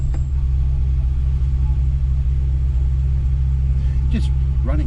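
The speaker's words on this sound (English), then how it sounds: "And the idle was way too high." An 81 Porsche 928 V8 idles too high, a steady loud low rumble held throughout with no dips, running slightly rough, with brief voices near the end.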